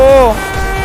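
A truck horn in Construction Simulator blows a single loud, steady tone that slides slightly downward like a train whistle, then cuts off quickly.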